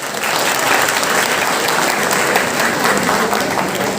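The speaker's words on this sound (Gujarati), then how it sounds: "એમની એનર્જી માટે જોરદાર તાળીઓ." Loud, sustained applause from a large audience at a Brahmin community honours ceremony in Navi Mumbai, steady clapping filling the hall without a break.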